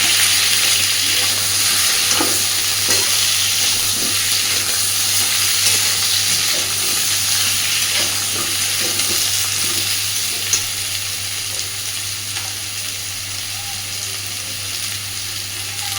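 Vegetables fry and are stirred together in a pan while a light fish curry is being made, giving a steady, fairly loud sizzle throughout with occasional soft scrapes of stirring and no talking.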